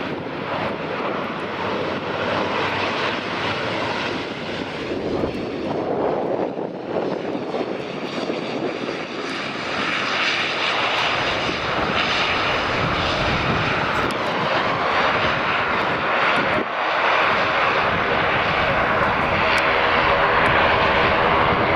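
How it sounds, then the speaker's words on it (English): An ATR 72-600 turboprop airliner from Manchester landing on runway 16 at Aberdeen Dyce Airport, its loud propeller and engine roar sustained and close throughout, with wind buffeting the microphone. "ATR 72600 from Manchester, just landing on runway 16, and here it is. Oh, a bit of a bouncy one."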